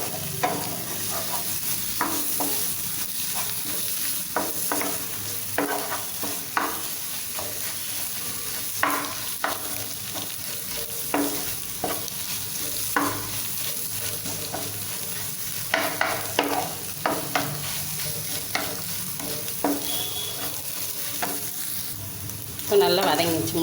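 Eggs being stirred and sautéed in a frying pan for egg rice, with steady sizzling under repeated scraping spatula strokes, close and continuous for the whole stretch, no talk.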